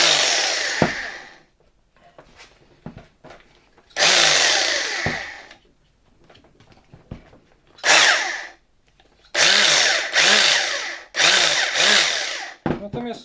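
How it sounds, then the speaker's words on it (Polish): A 1981 Celma PRWg 1IIB rotary hammer drill runs in several short bursts, each winding up with a whining motor and spinning down again, loud and close, with quiet handling noises in the gaps between runs. "Czyli wiercić tak czy inaczej będzie można"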